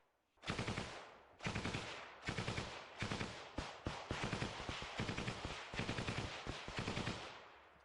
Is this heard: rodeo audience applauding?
no